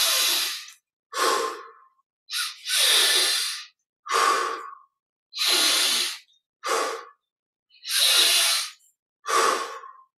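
Nine slow, deliberate breaths, alternating inhales and exhales, are drawn and released loudly and close during a guided relaxation exercise, with airy hissing strokes separated by short silences and no speech.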